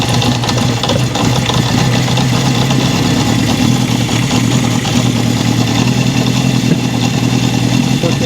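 A 1972 Honda CB750 Four's four-cylinder engine idles steadily and loudly up close, with a constant low throbbing rumble and light mechanical clatter.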